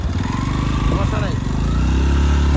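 A motorcycle engine runs close by at a beach on Saint Martin Island, Bangladesh, a steady low rumble throughout, with people talking over it.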